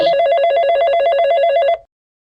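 A telephone rings with one loud, continuous trilling electronic bell, close and clear, lasting under two seconds and then cutting off into silence.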